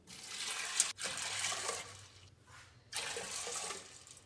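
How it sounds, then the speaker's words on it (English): Water pours steadily from a container into a pot of rinsed dry beans, a close hissing splash in three bursts with short gaps between them. "Now goes 6 cups of water."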